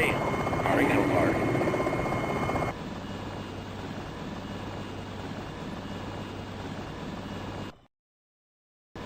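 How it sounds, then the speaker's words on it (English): Enemy helicopter in the Jane's Longbow combat flight game, a continuous rotor and engine drone with a louder, busier stretch at the start, then steady until it cuts off abruptly near the end. "Enemy chopper front."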